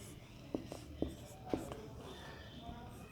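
Pen strokes while writing out math, several short scratchy marks at a steady pace, close and fairly faint under a soft background hiss.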